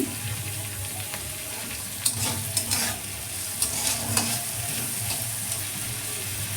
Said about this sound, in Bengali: আমার পেঁয়াজটা মোটামুটি ভাজা হয়ে গেছে